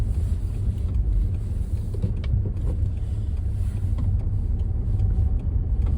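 A car rolls along slowly, giving a steady, close low rumble of engine and road noise with some wind buffeting and faint rattles, continuous throughout with no voices.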